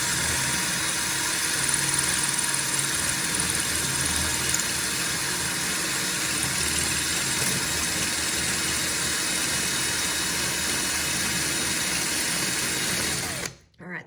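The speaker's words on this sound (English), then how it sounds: "we're just going to let the masonry bit sort of slowly gouge out as we go" A masonry bit in a power drill grinds steadily into a wall, one continuous loud droning whine held for the whole stretch before cutting off abruptly near the end.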